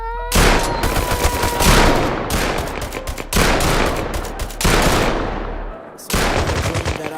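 Rapid automatic gunfire in the shooter game Bullet Rain, loud close bursts of machine-gun fire in several long strings broken by brief pauses.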